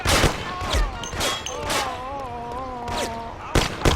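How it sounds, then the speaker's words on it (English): Gunfire rings out in the video game Mafia as a series of sharp, loud bursts. Between the shots a shouting voice and a wavering tonal sound come through. "Shoot the bastard!"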